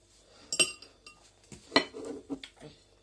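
Toasted bread set down on a plate, with a few sharp clinks of dishes and cutlery and softer rustling knocks in between, close and quiet in a still kitchen.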